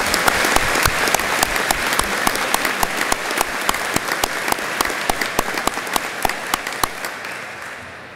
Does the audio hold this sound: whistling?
no